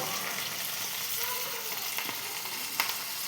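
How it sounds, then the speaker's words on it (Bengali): Koi fish sizzling as it fries in oil together with spices in the pan. A steady, close, even hiss runs throughout, with a couple of faint clicks near the end. "আমি আজকে মাছ আগে ভাজছি না, মশলার সাথেই হালকা ভেজে নেব"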